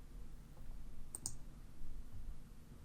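A computer mouse gives two quick, close clicks around the middle of the clip, over a low background hum, during data entry in TracDat software.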